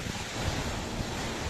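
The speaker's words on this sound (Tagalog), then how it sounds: "nakabibinging hangin ang humampas sa iba't ibang bahagi ng Cagayan" Strong typhoon wind from a super typhoon lashing Cagayan, a steady roaring rush with buffeting gusts and surf-like noise, loud and continuous throughout with no voices.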